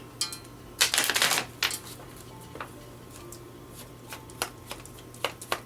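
Spanish tarot deck being shuffled by hand, a quiet close burst of riffling cards followed by scattered light taps and flicks of cards, with no talking.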